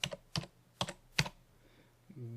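Four separate clicky keystrokes on a computer keyboard tap out a number at a slow, uneven pace, close and fairly quiet, followed by a brief low hum at the end.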